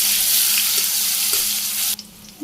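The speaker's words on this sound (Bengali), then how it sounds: "গরম হয়ে গেছে তেল দিয়ে দিলাম একটু জিরে তারপর পেঁয়াজ কেটে পেঁয়াজটা করে ভাজি রসুন দিয়ে দিলাম" Onion and garlic fry in hot oil with a little cumin, giving a loud dense sizzle close by that suddenly drops to a softer crackle near the end, followed by a light clink.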